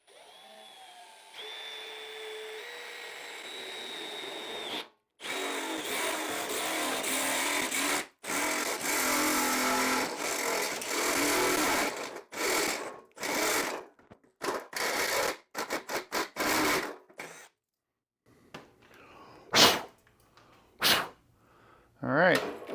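A power drill bores holes in a grill for a propane kit, in bursts of loud whirring separated by pauses, clicks and handling noise, with occasional talk.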